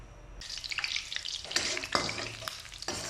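Garlic sautés in an oiled pan for squid adobo, a steady close sizzle with stirring scrapes and a few sharper spatula clinks.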